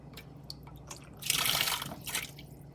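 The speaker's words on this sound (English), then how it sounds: "faucet leaks." Water leaking from the faucet of a 1.25-gallon plastic fridge drink dispenser, scattered close drips that build into a brief splashing trickle, then thin back out, with no voices.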